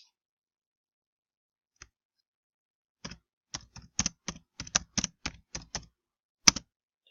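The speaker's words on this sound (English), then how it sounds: "and you'd start typing and stuff like that" Typing on a computer keyboard: a lone click, a pause, then a quick irregular burst of crisp keystrokes close by, ending with one sharper tap.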